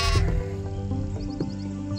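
A sheep or lamb bleats on a farm, one loud close wavering call at the start followed by softer background bleats.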